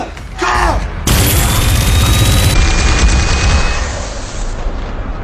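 Gunfire in a scene from the film The Purge: a loud, dense burst of blasts and booms that keeps up for several seconds before easing slightly.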